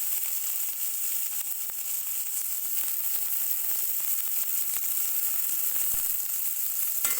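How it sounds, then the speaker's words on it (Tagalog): Ginger and onion sautéing in a pan, a steady close sizzle of frying with a few faint clicks of stirring, continuous and unbroken, no talking. "Then, hantayin lang po natin magisa ng maayos ang mga ricado."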